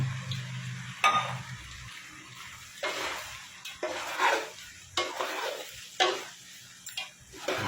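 Seafood pancit canton being stir-fried in a pan, with repeated scraping stirs and bursts of sizzling at close range over a low steady hum, no talking.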